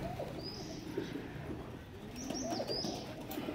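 Pigeons in a pigeon house coo softly and chirp now and then, a low, layered murmur from several birds at moderate distance, with no talking.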